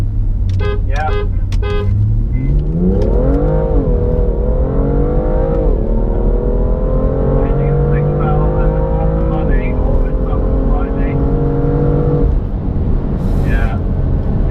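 A BMW accelerates hard from first gear at low speed, its engine note climbing loud and close through sustained revs with a brief dip at a shift, after a few short toots at the start.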